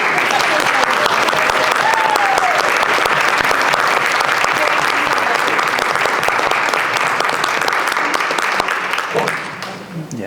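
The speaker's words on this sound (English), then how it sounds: "If we can have a quick round of applause, or maybe not so quick." Dense, sustained applause from a conference audience after a panel discussion, loud and close, holding steady for about nine seconds before tapering off at the end.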